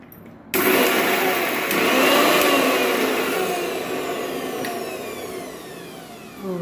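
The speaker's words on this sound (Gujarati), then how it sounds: "બુંદી થોડી મોટી થઈ ગઈ તો મેં કીધું આ મિક્સરમાં થોડી પીસી લઈએ." A kitchen mixer grinder whirs loudly as it grinds oversized boondi for ladoo. It kicks in abruptly after a moment of quiet and runs continuously with a harsh motor whine that gradually eases, with no talk.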